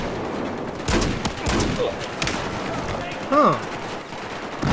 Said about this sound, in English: I just unlocked the shotgun, so let's test that baby out.